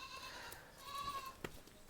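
A goat in a herd of twenty mother goats with forty kids gives a single faint, brief bleat against a quiet farmyard background.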